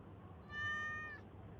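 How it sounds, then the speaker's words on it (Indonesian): A single cat meow, clear and fairly close, rising and falling over about half a second against a quiet room hum, with no other sounds. "ternyata itu adalah suara kucing"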